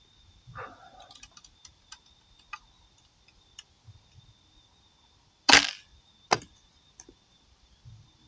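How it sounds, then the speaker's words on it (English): A 3D-printed archery bow shooting an arrow outdoors at night, a sharp loud snap followed by a second smaller crack, amid quiet surroundings with scattered faint ticks and a steady high insect-like hiss. "I'm going to shoot this as far as possible, and then we call it night."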